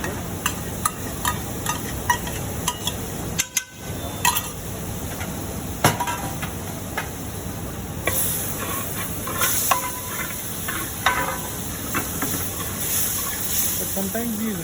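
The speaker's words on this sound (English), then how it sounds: "I will add all the chili paste" Red chili paste made from about fifteen chilies sizzles in a hot pan while being stirred. A continuous close hiss carries clinks and scrapes of a utensil against the pan, with a person talking intermittently over it.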